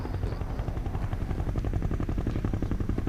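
In the video game F.E.A.R., a helicopter churns steadily at moderate distance, its quick rotor thumps pulsing throughout the three seconds amid faint background game sounds.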